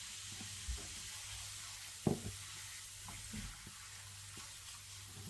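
Ground tomato fries in a pan with garam masala, giving a steady, soft sizzle with a few clinks and scraping stirs.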